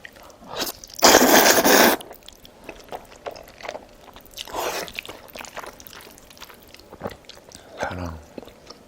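Crunchy chewing of garlic honey bread with napa cabbage kimchi, radish kkakdugi-style seokbakji and green onion kimchi at a Korean mukbang, with close wet bites, one loud burst of crunching, then scattered softer chews.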